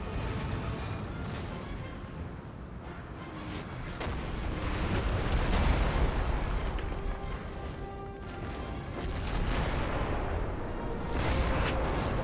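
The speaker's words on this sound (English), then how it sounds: "the Dutch cannon here being highly effective" Dutch cannon and artillery fire in the video game Napoleon: Total War produce a dense, continuous barrage of booms and crashes that swell and fade in loud rolling waves with no talk.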